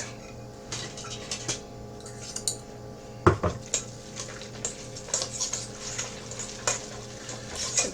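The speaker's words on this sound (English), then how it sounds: "then we're going to give it a really good mix." A spoon clinks and scrapes against a bowl while fish cake mixture with dill is stirred, producing irregular metallic taps over a soft, steady background.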